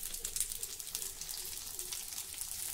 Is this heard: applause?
no